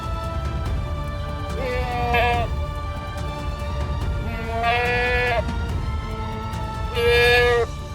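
Three bleats from a mountain goat at intervals of a few seconds, fairly close, each a wavering nasal cry over faint background noise.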